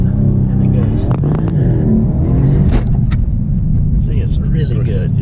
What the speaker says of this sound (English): Wide open throttle. Release the brake, and it goes.